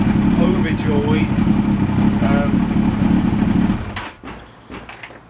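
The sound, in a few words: Yamaha FZS1000 Fazer motorcycle engine running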